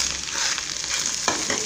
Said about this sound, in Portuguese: Aí tô fazendo, fritando ovinho pra mim